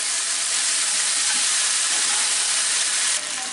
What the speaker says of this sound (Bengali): আর পেঁয়াজগুলো এখন বাদামি হওয়া পর্যন্ত ভেজে নিব।